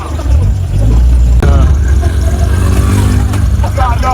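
The engine of a road vehicle carrying a traveller near the Mali border hums as a loud, steady low rumble from inside, with faint rising tonal whines as it moves.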